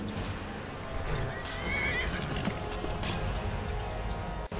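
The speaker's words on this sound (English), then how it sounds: "Get on my horse." Horse hooves clip-clop steadily in a video game as the mount moves off, with a whinny and faint watery ambience running throughout, the hoofbeats close and continuous.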